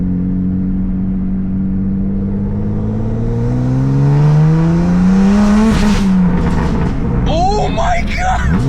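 A BMW M3 with downpipes and its exhaust valves open revs loud and close, the engine note rising steadily to a sharp peak and then crackling, with voices heard over it.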